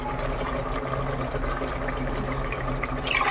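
Water poured from a glass into a cooking pot of sautéed tomato for tomato rice, a steady broadband splashing stream running throughout, fairly loud and close, with no talk over it.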